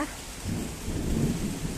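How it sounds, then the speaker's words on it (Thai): Distant thunder rumbles low and continuous through a steady hiss like rain, with no voices present. "โอ้ยฟ้าร้องแล้วนะ"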